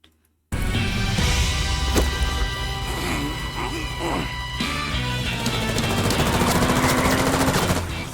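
Rapid gunfire rattles through a movie fight scene, with sharp bursts, crashes and heavy impacts layered over a dense, loud action soundtrack for several seconds after a brief silence.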